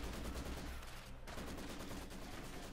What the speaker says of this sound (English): Rifle grenade off.